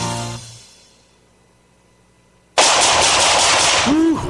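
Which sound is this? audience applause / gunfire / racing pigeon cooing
gunfire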